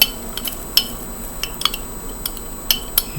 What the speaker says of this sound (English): so we're going to stir that up a little